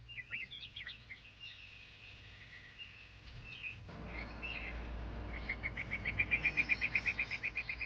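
Spring birdsong in Yellowstone, several birds chirping and trilling at a moderate distance, ending in a fast run of repeated bright notes over a low outdoor rumble.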